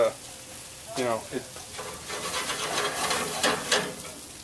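Freshly caught fish cooking on a barbecue that has lost some heat, giving a moderate, close sizzle with soft crackling and brief stirring scrapes.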